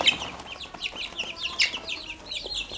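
Chickens clucking in a farm coop, several birds close by giving short overlapping clucks and calls in an irregular stream, with no talk.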